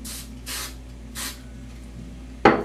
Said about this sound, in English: give it a light spray